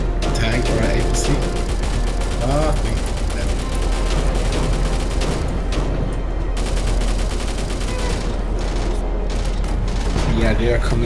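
A tank in the Angels Fall First game grinding along with rattling, clanking mechanical tread noise under continuous gunfire, loud and dense throughout, while players talk over it.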